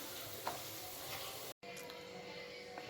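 Onion pakoda deep frying in hot oil gives a steady, close bubbling sizzle throughout, cut by a brief silent gap near the middle.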